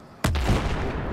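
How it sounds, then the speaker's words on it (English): In the Battlefield 3 video game, a loud explosion or gunshot booms up close, then its rumble fades off over about a second. "Shit's blowing up all around me."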